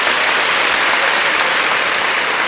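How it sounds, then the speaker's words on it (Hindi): Loud, dense audience applause at a motivational speech event, sustained clapping from a large crowd filling the whole moment without a break. "एक बार तालियां होनी चाहिए"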